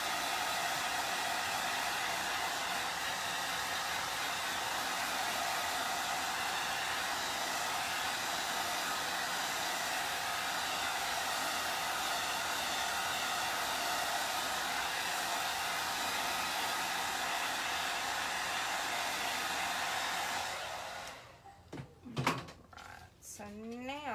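A hair dryer blows steadily at close range, drying a craft transfer layer in one loud, continuous rushing roar lasting about twenty seconds before cutting off, leaving brief handling knocks.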